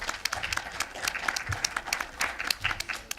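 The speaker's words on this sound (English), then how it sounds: "let's give her a round of applause." Indoor audience applause for a professor at an event, with a short burst of dense, close clapping that carries on steadily without talk.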